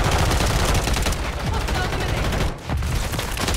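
Loud, sustained automatic gunfire in Call of Duty Modern Warfare 3 on the Stash House map, a nearly unbroken rattle of close shots with a brief lull near the end, voices faint underneath.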